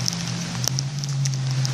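Rain falls outside on a rainy night in the Northeast, a soft steady patter with scattered nearby drips and taps over a low constant hum.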